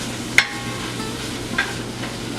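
Beef and vegetables are stirred in olive oil in a pan, with a steady low sizzle and two sharp scrapes or taps of the utensil against the pan.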